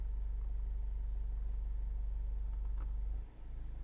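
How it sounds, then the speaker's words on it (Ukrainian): 2013 Renault Trafic long-wheelbase passenger van with a 2.0 diesel engine (115 hp) idling with the air conditioner running, a steady close low rumble that drops and shifts near the end. "Ми чуємо, як робота мотору змінилася. Зараз вона працює з кондиціонером."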